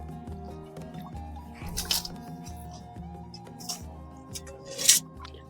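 Fish being washed in dark water drawn near an outdoor field cooking spot, with close, soft drips, splashes and squishy handling sounds over a steady low hum.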